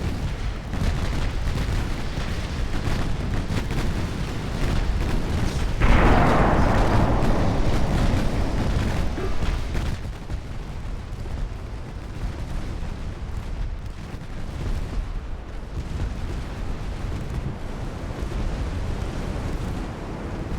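Heavy naval gunfire from warships firing high-explosive shells in the naval strategy game Ultimate Admiral Dreadnoughts: a sharp loud boom near six seconds that rolls off over several seconds, set against a continuous low battle rumble.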